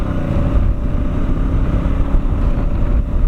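A 2017 Honda Africa Twin DCT motorcycle running steadily at speed, with a constant low engine drone and wind rush throughout while the rider shifts gears with the paddle, loud and close with no talking.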